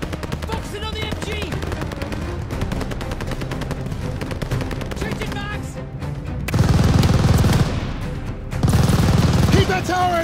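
Rapid machine gun bursts and scattered gunfire in a WWII airborne battle game set during Operation Tonga, loud and close, with soldiers shouting over the shooting and heavier blasts later on.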